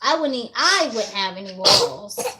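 A single sharp sneeze bursts out close by, set between stretches of casual conversational talk.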